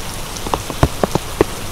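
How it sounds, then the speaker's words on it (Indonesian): Rain falls on a rice field in scattered, distinct drops, each a sharp tap or splat at irregular intervals against a soft, hissing background. "awas benar mah ada hujan nih"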